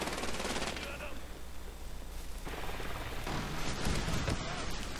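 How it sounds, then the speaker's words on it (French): Gunfire in the Medal of Honor Warfighter multiplayer beta, with rapid automatic bursts and scattered shots over a constant battlefield rumble, under someone talking. "là on se prend des tirs"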